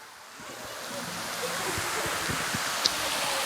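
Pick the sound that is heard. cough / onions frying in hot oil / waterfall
waterfall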